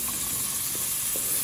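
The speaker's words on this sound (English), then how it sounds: "And I'm just frying that up." Onions, pimentos, garlic and a whole pepper frying in a pan give off a steady close hiss and sizzle, even and continuous with no talking.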